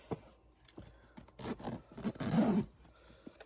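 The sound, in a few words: YKK metal zipper on leather tote being zipped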